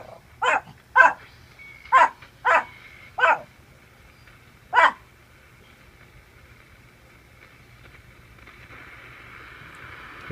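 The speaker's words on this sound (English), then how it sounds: "Excuse my dog." A dog barks six times indoors, sharp loud barks in an uneven rhythm over the first five seconds, then quiet background hum.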